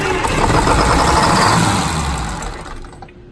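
Twin Detroit Diesel 6-71 boat engine on a TIB boat catching and running at a fast, rough idle, loud and close, then cutting off and fading away at the end.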